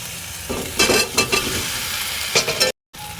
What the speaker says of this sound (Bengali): এগুলো আমি এক মিনিটের মতো খুব ভালো করে নাড়াচাড়া করে নিয়েছি